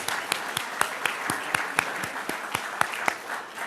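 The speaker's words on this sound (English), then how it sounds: "Let's have another round of applause for all the past presidents and these 7 exceptional" Gala audience at Temple Beth O'r Beth Torah in Clark, NJ, applauding honorees, a moderate wash of clapping with distinct sharper hand claps standing out in a loose rhythm.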